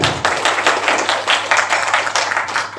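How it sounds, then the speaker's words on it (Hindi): Audience at a cultural event in Mumbai clapping loudly in a quick, regular rhythm, the pulsing claps steady and close throughout. "जोर जोर से तालियों का स्वागत करें"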